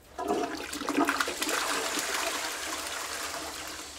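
A toilet flushes close by in a neglected rented flat, opening with a loud gush of rushing water that settles into a steady swirling drain and trickle.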